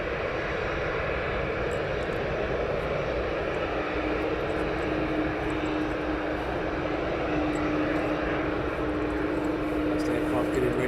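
A fixed-wing aircraft at East Midlands Airport readies for departure, its engines holding a steady, loud, continuous roar with a faint tonal whine rising slightly toward the end, heard alone without talk.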